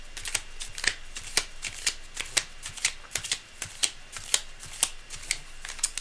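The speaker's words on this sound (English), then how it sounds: "Cards are well shuffled." A tarot deck is shuffled by hand, producing quick crisp riffling bursts in a steady, fairly regular rhythm, close and clear with no talking over it.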